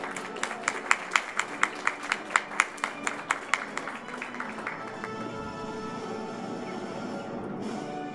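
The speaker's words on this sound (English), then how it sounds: "So I'll give her one more round of applause." Audience at a kindergarten graduation claps in a burst of sharp, distinct hand claps that thins out after a few seconds, leaving quieter room ambience.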